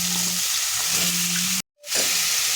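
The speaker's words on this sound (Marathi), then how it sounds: "सर्व भाजी टाकून आपल्याला परतायचे।" Tinda (dhemsa) vegetables sauté in hot oil with a steady, loud sizzle, which cuts out abruptly for a moment and then returns.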